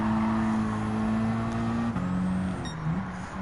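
A Radical race car lapping in Gran Turismo 7, engine holding a loud steady drone, then dropping pitch with gear shifts and lifts near the end, continuous and close with no talk.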